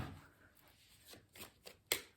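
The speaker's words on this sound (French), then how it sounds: "on va voir ce qui vient avec 5 cartes de l'oracle" Oracle cards are shuffled by hand, giving a few faint, quick riffling flutters and a sharper final snap, quiet and close with no talk.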